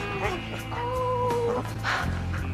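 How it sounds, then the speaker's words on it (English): A dog whimpers and yips in a TV commercial, its high thin whine rising and falling over a busy background of music and noise. "A dog!"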